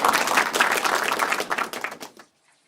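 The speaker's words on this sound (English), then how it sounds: "Should I do a round of applause?" A short round of clapping from a small group during a live online pigeon club broadcast, dense and fairly loud for about two seconds before stopping abruptly.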